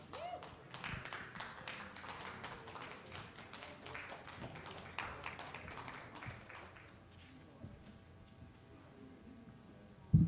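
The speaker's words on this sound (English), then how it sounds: "Give them a round of applause." Conference audience applauding as a panel and moderator are welcomed onstage at a healthcare innovation event, a soft, quick patter of clapping that thins out and fades after several seconds, heard at a distance.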